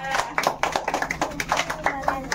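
Close, rhythmic hand clapping from a few people at a home Ganesh Chaturthi drawing competition prize giving, steady bursts repeating throughout with voices mixed in.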